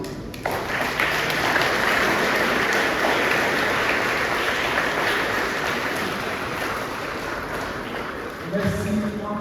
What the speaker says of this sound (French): Je pense qu'ils méritent bien nos applaudissements.